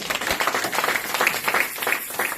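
A church congregation claps in a loose, fast patter of many hands, moderately loud and close, forming a brief burst of rhythmic clapping.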